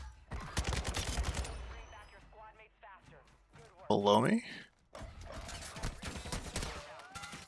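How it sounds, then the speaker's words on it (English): Gunfire coming through a wall in Warzone 2, sharp bursts of shots at the start and again midway, mixed with a player talking and other game sounds. "Okay, I'm getting shot through that wall."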